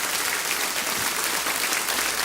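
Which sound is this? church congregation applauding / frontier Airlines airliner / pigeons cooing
church congregation applauding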